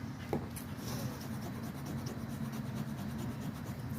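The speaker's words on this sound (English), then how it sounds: "Sanding it down." Gritty scraping and rubbing as a dig-kit dinosaur egg is sanded down, a continuous close rasp with faint rhythmic strokes and a few light knocks.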